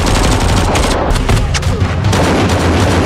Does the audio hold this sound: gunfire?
yes